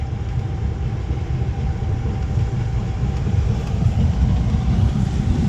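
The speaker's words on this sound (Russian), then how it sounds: "Ну а мы тем временем мчим в сторону дома по железной дороге." Passenger train rolling along railway tracks on a warm day, a steady, continuous low rumble of wheels and carriage noise that stays loud and even throughout with no voices.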